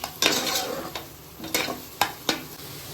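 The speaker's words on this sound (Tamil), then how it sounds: "தக்காளி நல்லா கரைஞ்சி வர வதங்கி வரட்டும்" Tomatoes with salt sautéing in a pan for chicken kurma give a moderate sizzle under repeated spoon stirs and scrapes against the pan, about five distinct strokes, heard close with no talking.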